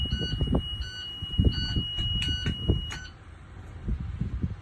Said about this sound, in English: Our emergency windows, we're going to inspect them by opening them up, making sure that alarm goes off